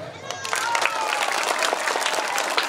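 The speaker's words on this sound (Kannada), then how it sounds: "ಜೋರಾಗಿ ಚಪ್ಪಾಳೆ" A crowd at an annual school sports day for Loyola and Sacred Heart Schools in Shivamogga applauds loudly, with dense steady clapping for the whole stretch and some voices mixed in.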